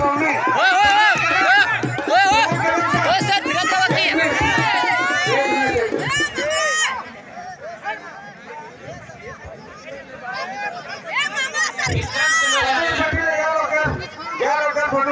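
A dense crowd chatters and shouts at a village wrestling arena in Khanapur, a loud, busy babble of many voices. It eases briefly midway before swelling again.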